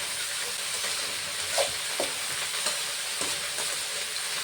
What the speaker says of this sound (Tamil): உப்பு சேர்த்துட்டு நல்லா எண்ணெயில் வதக்கி விட்டுறலாம்